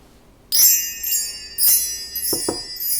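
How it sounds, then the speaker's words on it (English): Wind chimes ring out in a few separate clusters of bright, shimmering metallic tones. Each cluster lingers and overlaps the next, close and moderately loud in a quiet room. "let's call in spirit with some wind chime time"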